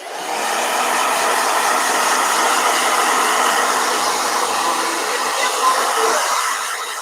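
A blow dryer runs with a loud, steady whooshing roar, close by and continuous, with no talk over it.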